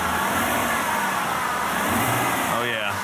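A Chevrolet Silverado truck engine runs steadily after being repaired, a continuous close mid-range drone that holds even throughout, with a brief rising rev near the end.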